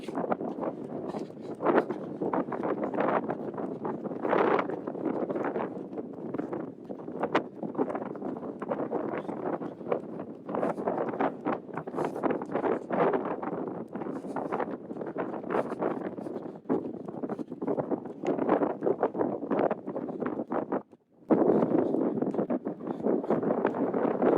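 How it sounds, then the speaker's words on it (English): Steady, heavy wind buffeting the microphone at Huntington Beach during a run, a continuous roaring rumble with gusty fluctuations and a brief dip near the end, no voices. "very windy."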